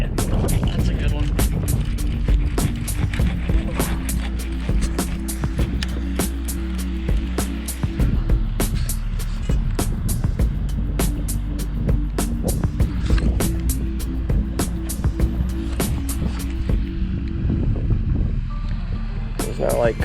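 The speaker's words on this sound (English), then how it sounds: "Man, it is just something else this wind today." Strong wind gusting at a pond outdoors, a constant low buffeting rumble against the microphone, broken by frequent sharp clicks and handling knocks, with a voice now and then.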